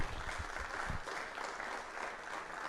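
Applause from a town hall audience at a bond meeting, fairly faint and patchy clapping from a modest crowd, a few sharper claps standing out early before it settles into a softer, uneven patter.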